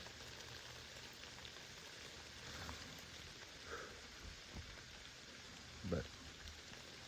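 Light rain patters steadily on the surroundings during a hunt in Atoka County, a faint, even hiss with a few soft nearby rustles and a brief louder knock near the end.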